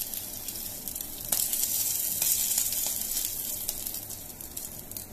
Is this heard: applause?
no